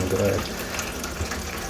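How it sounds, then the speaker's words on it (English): Water is emptied from Aerogarden hydroponic planters, a close, steady gushing pour of liquid with a voice speaking briefly at the start. "here I'm at my Aerogardens, and I'm just emptying the water."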